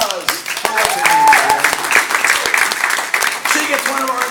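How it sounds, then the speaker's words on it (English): Audience applause at a circus sideshow performance, a dense crowd patter of clapping mixed with cheering voices and some talk throughout. "how about a big round of applause?"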